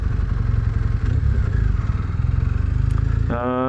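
Engine of a 2001 Triumph Bonneville motorcycle, a steady loud throbbing rumble held at a constant pace, then a sharp rise in pitch as it revs up near the end.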